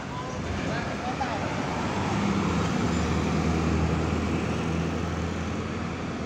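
A Sinar Mandiri Mulia Don Juan economy bus from Semarang via Tuban passes the entrance of Purabaya terminal in Bungurasih at night with a steady, broad engine and road rumble that swells and then eases, under faint talk.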